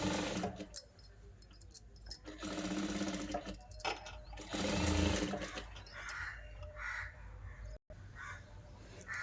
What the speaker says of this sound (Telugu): ఈ విధంగా ఒకే లెవెల్లో కుట్టుకుంటూ రావాలండి